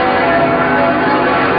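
Church bells ring at Notre Dame Cathedral in Montreal, a loud, sustained wash of overlapping bell tones that fills the whole short stretch without a break.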